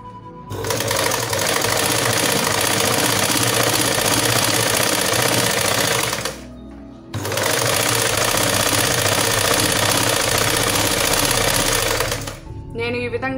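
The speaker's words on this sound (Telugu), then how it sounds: "నేను ఈ విధంగా కొద్దిగా సన్నగానే కుట్టుకుంటున్నానండి" A sewing machine stitches thread onto cloth for a designer dori, running loud and steady in two long bursts separated by a brief pause, with a short rattle at the end.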